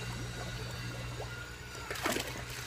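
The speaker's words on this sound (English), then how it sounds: "you can see it all bubbling" Aerated worm compost tea bubbles and trickles in a running brewer, a faint steady watery burble with a slightly louder splashy stretch near the end.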